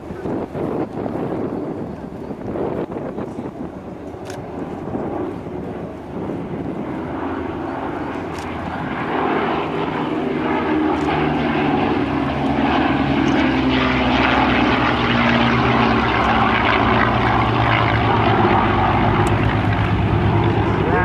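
A P-51 Mustang and a four-engine B-29 Superfortress fly at the 2013 Dayton airshow, their piston propeller engines making a loud, droning roar that grows fuller and closer, with some wind buffeting on the microphone.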